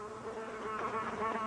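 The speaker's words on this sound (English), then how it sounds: "Wait a minute, you guys hear that buzzing?" Acme fly buzzing as a sound effect on a 1993 Carmen Sandiego game show, a steady, close, continuous insect drone with a wavering pitch that carries unbroken through the clip with no voices.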